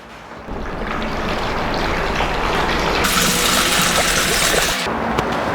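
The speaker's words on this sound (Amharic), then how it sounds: "1 ሊትር ውሃ ባልዲ ላይ መጨመር ይኖርብኛል።" One litre of water gushing into a bucket as the first step of making bar soap, a steady loud rush of pouring liquid that holds for several seconds without a break.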